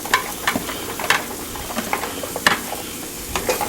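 Vegetables sautéing in a pot for cream of broccoli soup, a steady sizzle with scattered clinks and stirring scrapes, close by and fairly loud, with no one talking.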